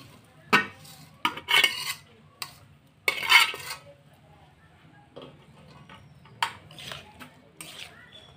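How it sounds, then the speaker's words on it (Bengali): Lime pickle ingredients stirred into cooled oil in a pan, giving several sharp scraping and clinking bursts of a utensil against the vessel separated by quiet gaps, close and fairly faint. "দিয়ে ভালো করে নেড়ে নেব।"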